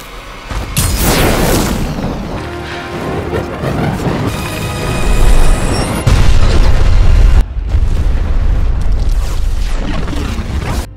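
A loud boom bursts out as a leaking car fuel tank explodes, followed by a long roaring, crackling rumble of a burning cornfield with further heavy crashes and blasts continuing to the end.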